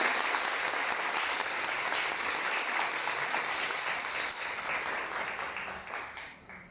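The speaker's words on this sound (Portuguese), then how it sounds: "Vamos recebê-la com a salva de palmas." A crowd applauds steadily, many hands clapping at a moderate distance, fading slightly toward the end.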